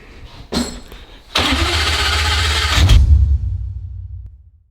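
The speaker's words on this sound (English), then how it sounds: "finally gonna start this Lamborghini engine here in my Volvo" A Lamborghini engine fitted in a Volvo 245 cranks briefly on its first start, then fires and roars loudly for a couple of seconds before settling into a lower rumble that fades out.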